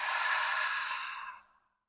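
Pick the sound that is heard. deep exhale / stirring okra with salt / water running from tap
deep exhale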